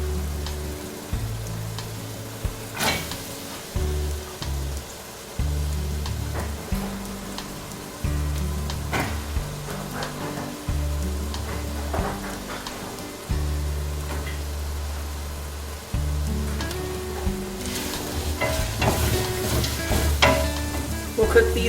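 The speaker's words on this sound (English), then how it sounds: "I'm going to add the carrots and the celery." Carrots and celery sizzle in butter with onions in a stock pot, a continuous frying crackle broken by clinks and scrapes as the vegetables are stirred, with a low intermittent hum underneath.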